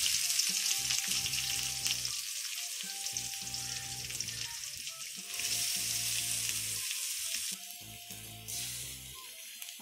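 Loud, steady sizzling of onions frying in hot oil with curry leaves, with occasional stirring scrapes and no talking.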